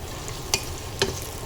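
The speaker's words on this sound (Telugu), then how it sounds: "వెల్లుల్లి పేస్ట్ వేసానండి. చూడండి, బాగా ఫ్రై చేసుకోండి." Garlic paste frying in a pan, a soft continuous sizzle with two brief scraping stirs spaced about half a second apart.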